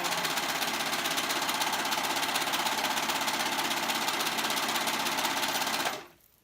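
A sewing machine runs steadily, stitching fabric for an off-shoulder skirt with a fast, even mechanical whir and rattle for about six seconds, then stops abruptly into quiet.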